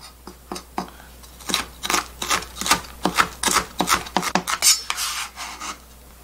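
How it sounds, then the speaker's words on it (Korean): A kitchen knife finely minces Cheongyang chili peppers on a cutting board, a run of quick, crisp chopping strokes close by that speed into a dense irregular rhythm, with no talk. "이거는 청양고추는요 잘게 다져주겠습니다"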